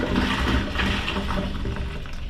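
Blue chemical-dosed water tipped into a motorhome or caravan toilet, a close, short gushing pour with gurgling, bottle-like glugs.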